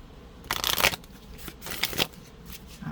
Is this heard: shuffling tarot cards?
yes